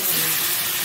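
Steady broadband hiss and splashing as water is poured into a hot pan of sautéed spiced fish curry, loud and close, with no talking.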